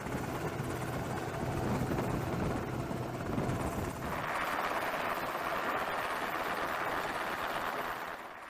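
An SH-60 Seahawk helicopter's rotor thumps steadily at a moderate distance, then a whooshing, hissing wash of air takes over, fading slightly at the end.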